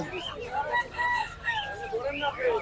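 Several chickens at a poultry market in Hemayetpur cluck and squawk close by in an agitated, overlapping chorus, with a hint of murmuring in the background.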